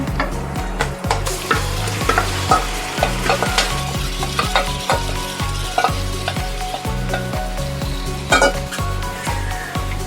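Chicken pieces are stirred into golden fried onions in a pot for biryani, with loud sizzling and frying under repeated metal scraping and clanking of a ladle against the pan, close and busy throughout.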